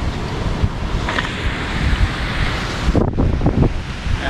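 Strong wind by the sea near a fishing spot in Mindoro after a flood, blowing as a loud, steady rushing roar against the microphone with gusty buffets and surf-like noise throughout.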